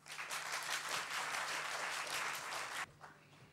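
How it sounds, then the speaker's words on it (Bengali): Crowd applause at a university debate competition, honouring the best speaker from the University of Chittagong's opposition team; dense, steady clapping fills the room, then drops sharply near the end, leaving a few scattered claps. "প্লিজ একটু জোরে হাততালি।"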